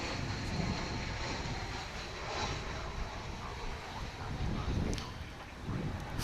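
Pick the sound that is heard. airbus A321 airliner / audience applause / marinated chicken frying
airbus A321 airliner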